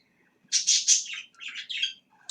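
Birds chirping close by in a quick run of bright, high tweets and trills that come in two bursts, ending with one short chirp.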